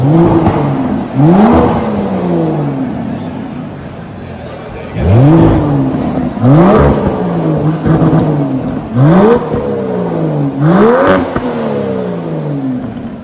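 A powerful Aston Martin DBS engine revs repeatedly, several loud rising blips spaced a second or two apart over a deep idling rumble, close by.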